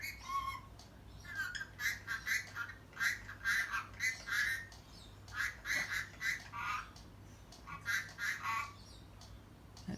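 A pet parrot gives repeated close, raspy squawks and chattering calls in short bursts with brief pauses between them, with no human voice over it.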